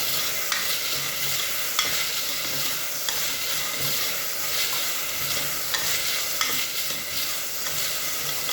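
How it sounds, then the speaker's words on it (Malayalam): Tomato stirred into dal khichdi in a hot pan: a continuous loud sizzle with rhythmic scraping strokes of the spoon roughly every second, and no voices. "നമുക്കിതിനകത്ത് ടൊമാറ്റോ ഇട്ട് നല്ലതുപോലെ ഒന്ന് മിക്സാക്കി"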